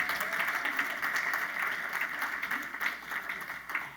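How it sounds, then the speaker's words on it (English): An audience at a closing ceremony applauding the presenters, a dense, even wash of many hands clapping at a moderate distance for several seconds. "Let's give them a round of applause."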